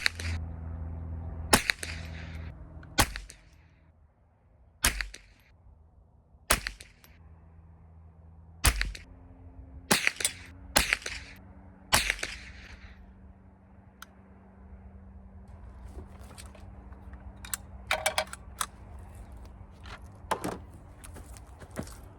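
Sharp, separate cracks from a Savage Model 62 semi-automatic .22 rifle ring out at uneven intervals, about a dozen shots in small bunches with quiet pauses between them, with no voices.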